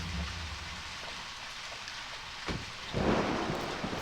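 Steady rain hiss during a thunderstorm in the video game Deadly Premonition, with a brief crack near the middle and a louder swell of thunder and heavier rain toward the end.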